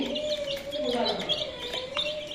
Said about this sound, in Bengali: এই যে মুরগির বাচ্চা